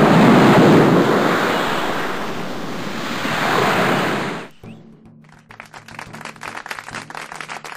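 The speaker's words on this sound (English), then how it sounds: "Moses parted the Red Sea." A rushing-wave sound effect for the parting of the Red Sea roars loud and continuous for about four seconds, then cuts off abruptly, leaving quieter scattered clattering.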